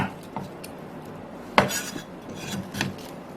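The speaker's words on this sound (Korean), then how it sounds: "양파는 채 썰어주세요." A knife cuts onion into thick strips on a cutting board, making sparse, uneven chopping knocks with one loud clack in the middle over a quiet background.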